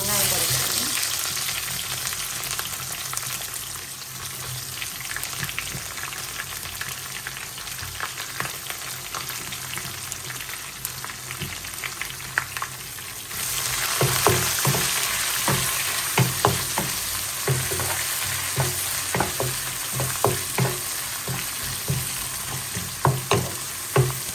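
Pork curry ingredients fry in hot oil in a pan, a continuous sizzle with crackling pops that grows louder and busier partway through, with occasional stirring.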